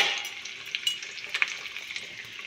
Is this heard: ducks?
no